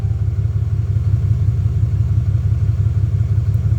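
A 2019-or-newer Ram 6.7L Cummins diesel engine runs at a steady idle after a fuel filter and water separator change, giving off a continuous, even, low rumble close by with no voices.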